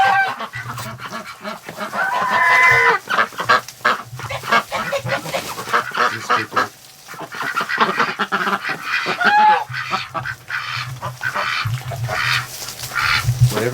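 Ducks and geese call together inside a winter shelter, a steady crowd of honks and quacks at close range that rises and falls throughout, with overlapping calls and no talking.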